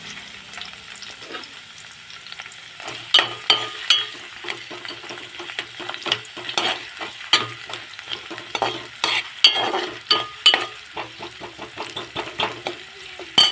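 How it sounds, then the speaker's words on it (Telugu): Onions fry in hot oil in a village kitchen pan. A steady sizzle runs underneath, with a dense run of quick scraping stir strokes in the second half. No one speaks. "ఆయిల్ వేసుకున్నామండి. ఇందులో ఫస్ట్ ఉల్లిపాయలు, వేసుకుంది"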